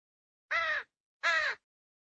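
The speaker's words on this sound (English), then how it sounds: "Crow." Two loud, harsh crow caws, each about a third of a second long, separated by a short pause and heard alone against silence.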